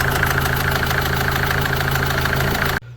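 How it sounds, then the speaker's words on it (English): A camper van's engine idles steadily and loudly after being repaired, with a constant mechanical hum and faint knock, then cuts out abruptly near the end. "engine's all back up and running"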